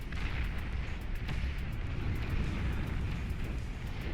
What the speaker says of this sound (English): there goes the flak